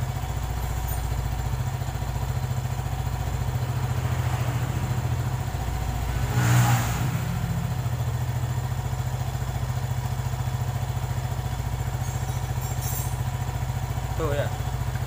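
A Yamaha Jupiter Z1 motorcycle engine idles steadily with a constant low throb and rattle, a brief louder burst midway, while a person talks over it.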